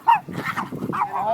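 During a dog fight, a dog lets out short, sharp barks and yips in a quick run, close and fairly loud, with rougher growly sounds between them.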